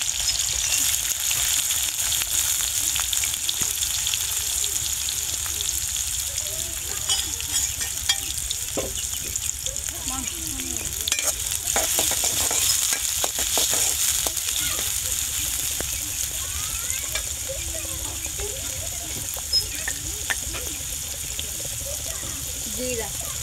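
Oil heating and onion frying in a pan for egg korma, a steady soft sizzle with faint stirring clinks running the whole time beneath a continuous high hiss.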